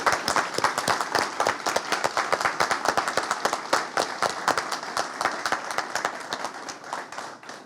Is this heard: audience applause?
yes